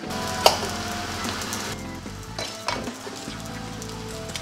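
Spam slices fry in a pan until crispy, giving a steady sizzle and hiss with a brief sharp clink near the start, over background music.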